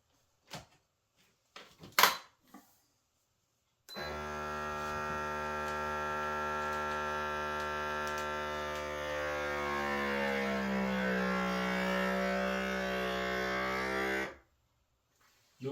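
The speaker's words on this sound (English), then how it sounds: "Stick it in your bag, stick it in the vac sealer." A vacuum sealer pumps air from a bag holding salmon, a loud steady motor hum that shifts gradually in pitch for about ten seconds before cutting off, preceded by a few brief clicks and knocks.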